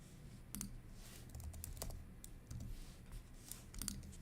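Soft, quiet keystrokes on a computer keyboard in short irregular bursts of clicks, with no voices.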